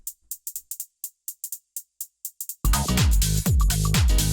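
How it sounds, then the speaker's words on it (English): A small closed hi-hat sample from a house track ticks alone in a quick, even run of short crisp hits. Then a full, loud mix with bass and other drums crashes in beneath it. "So then the last hi-hat we have is this little closed hi-hat"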